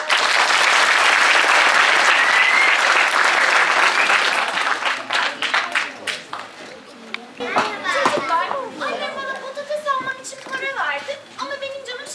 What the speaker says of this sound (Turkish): Alparslan için de bir alkış alalım